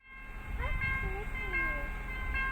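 A freight train rumbles past close by, its low steady roar carrying faint metallic squeals and tones over a continuous rolling din, with a voice chatting faintly over it.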